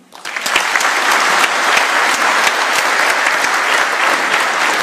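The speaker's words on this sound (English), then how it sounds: "A warm round of applause for His Excellency" Loud, dense applause erupts from a conference audience at a heritage event in Africa after a president's speech, swelling within the first half second into a steady, close roar of many hands clapping.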